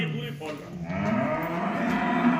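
A Holstein Friesian cow moos in long, droning calls through the whole stretch, close and fairly loud at a farm where animals are kept for sale.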